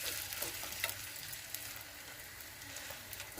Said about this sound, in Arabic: وغنديروها تقلى في الزيت